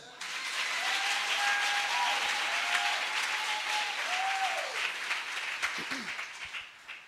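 A church congregation applauds during a Sunday service, sustained dense clapping from a large crowd with a faint tonal voice or instrument line underneath, tapering off near the end.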